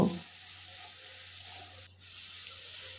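Vegetables fry in a pan for sabudana pulao, a soft, steady sizzle with a brief dip near the end, quiet and alone without talk.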